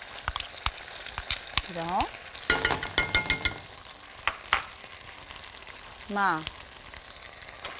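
Tomato sauce and ketchup are stirred into a tray of potato kofta, with scattered scraping and clinking strokes amid a soft sizzle as someone speaks between them.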